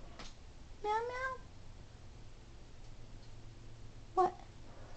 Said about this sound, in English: I love my cats.